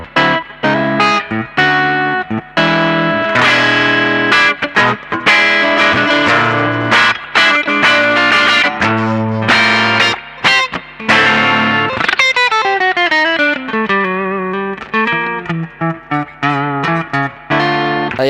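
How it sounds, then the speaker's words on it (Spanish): An Ibanez RG5170G electric guitar plays loud and close through distortion and other effects, with dense driving riffs and chords and a sustained, ringing passage near the end. "Y suena de puta madre aquí la guitarra, ¿eh?"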